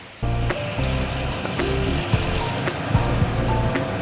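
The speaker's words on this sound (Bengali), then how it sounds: "এবার এই ঝিঙের মধ্যে আমি জল দিয়ে দেবো" Water is poured into a pan of lightly fried ridge gourd, starting abruptly and then running as a loud, continuous splashing sizzle for several seconds.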